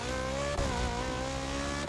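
A racing car engine in a video game with an engine swap kit drones loudly and sustained, with two abrupt gear shifts breaking the tone, no voices over it.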